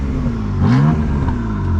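A BMW M340i engine with a DCT gearbox revs up briefly with a throaty rise and fall, loud and close, over a steady rumbling idle.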